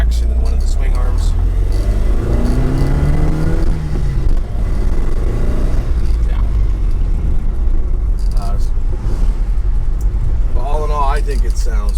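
Low, steady engine rumble from a 1976 Alfa Romeo Alfetta GT cruising along a road, heard continuously from inside the car beneath someone talking.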